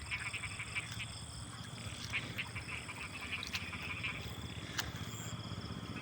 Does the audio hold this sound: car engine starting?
no